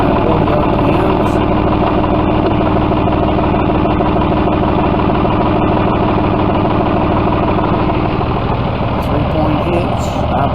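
A John Deere 5202 4WD tractor with a loader idles steadily and close by, a continuous low engine rumble holding an even level throughout, with voices faintly present.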